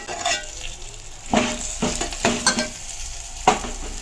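Turmeric rice is stirred in a frying pan, giving a soft background sizzle broken by several sharp scraping and clinking strokes of a spoon against the pan, with no talk.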